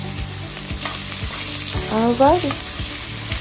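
Sausage searing in a pan for char, a steady close sizzle with rhythmic scraping stirs, and a brief voice speaking over it partway through.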